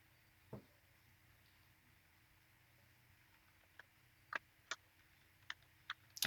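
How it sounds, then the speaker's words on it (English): Typing on a computer keyboard while writing a blog post: sparse, faint key clicks in a quiet room, a single tap early on, then a handful of isolated presses toward the end. "what I'm typing in now is the header for section 2"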